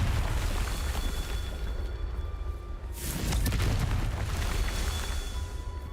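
Confringo fire spell blast in the Hogwarts Legacy video game, a dense rumbling explosive roar with a sharper bursting swell around the midpoint, loud and sustained throughout with faint tonal game sounds underneath.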